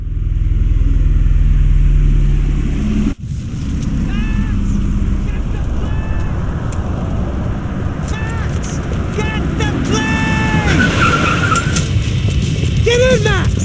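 Car engine driving in Max Payne 3, a loud steady engine drone with revving under a busy action mix, a brief cutout near the start, then shouted voices over the motor.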